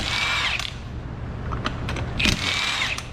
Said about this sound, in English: go ahead and take the tires off. They're held on with 5 22 millimeter lug nuts